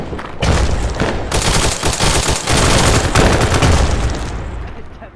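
Sustained automatic machine-gun fire in a close-quarters trench battle video game, loud and dense bursts rattling almost continuously for about five seconds with brief gaps.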